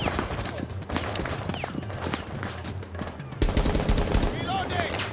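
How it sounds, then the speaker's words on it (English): Rapid bursts of automatic gunfire and single shots crack through a Rainbow Six Siege match, steady and dense across the whole stretch, with a louder barrage near the end and players talking underneath. "Tony, they shot me. I've been shot"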